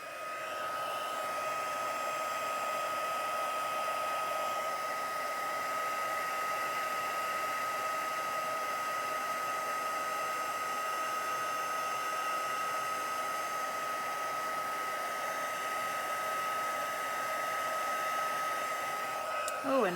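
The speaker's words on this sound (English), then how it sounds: "I will have my heat gun heating up over there out of the way" A heat gun warms up for card making, giving a steady, loud, unbroken airy whir with a faint high whine that holds for about twenty seconds and stops abruptly at the end.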